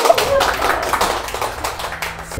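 Scattered audience clapping at a talk on face washing, a brisk, patchy patter of hands close by for a couple of seconds.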